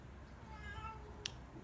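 A cat meows softly in a long, wavering, tonal call heard over steady background noise, followed by a brief sharp click.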